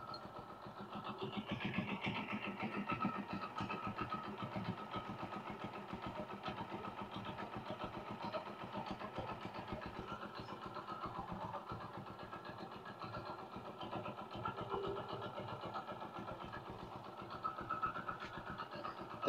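A Hero Eco Deluxe motorcycle engine runs at a steady, rapid idle during a battery check after starting, a faint, even mechanical chatter heard close with no talking.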